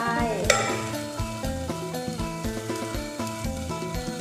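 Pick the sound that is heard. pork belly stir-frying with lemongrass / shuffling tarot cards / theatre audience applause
pork belly stir-frying with lemongrass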